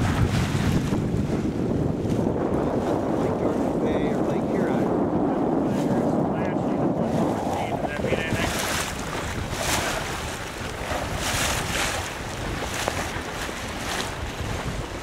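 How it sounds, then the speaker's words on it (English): Steady wind buffeting the microphone aboard a sailboat on a large lake near Parry Sound, with water washing against the hull, loud and continuous, easing slightly toward the end. "Very nice, nice steady breeze."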